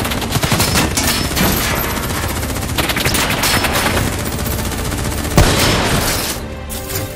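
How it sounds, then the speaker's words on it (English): Heavy video game gunfire rattles without pause in dense, overlapping automatic bursts throughout, close and loud, with a sharp louder crack near the end. "Who's shooting?"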